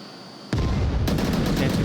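Gunfire and grenade blasts in the VR shooter Onward during a tournament match: near-quiet, then a sudden loud explosive burst with dense follow-up shots and a second blast layered into sustained rattling fire.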